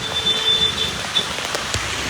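Hard rain falls over Dwarka in a steady broadband wash, with a faint thin tone running through the first part and a few brief louder spatters.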